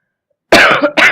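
A woman with a cold coughs twice close up, a long harsh cough followed by a shorter one after a brief gap, with nothing else audible.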